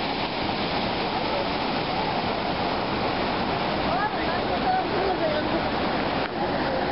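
Steady, dense rushing water from a waterfall in Antalya, Turkey roars continuously, with a few faint chirps or calls riding above the wash.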